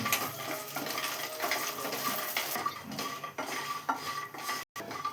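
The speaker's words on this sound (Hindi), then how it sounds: "আমি কিন্তু এটা ভেজে ভেজে নিচ্ছি" Dal bori lentil dumplings fry in a pan with a soft, steady sizzle, broken by scraping and clinking of a metal spoon against the pan, close and fairly quiet.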